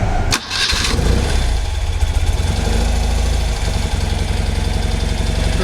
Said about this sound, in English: So first of all, let's start the engine.